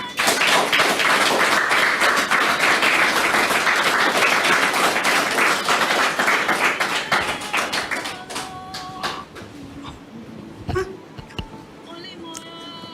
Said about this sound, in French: Merci de la recevoir avec vos applaudissements,